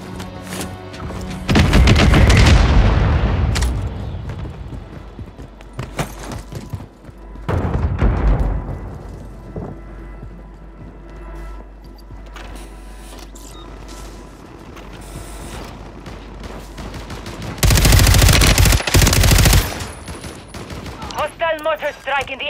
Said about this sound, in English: Mortar strike in the area.